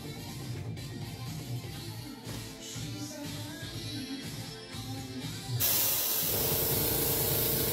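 An airbrush sprays paint onto the rivets of a scale model, giving a steady soft hiss that grows louder and brighter near the end, close by, with no voices.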